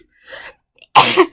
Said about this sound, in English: I always seem to sneeze.